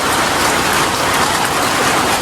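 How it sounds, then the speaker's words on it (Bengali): Heavy rain comes down in a loud, dense, unbroken roar of drops pattering on surfaces, steady from start to finish with no voices. "বৃষ্টি থামে না বৃষ্টি থামলে খাইতে যাবো বৃষ্টি থামতেছে না"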